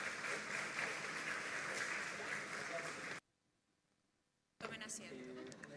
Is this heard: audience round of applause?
yes